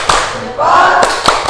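A class doing the rhythmic tepuk salut clapping routine, a few sharp, spaced hand claps mixed with voices chanting along in a classroom.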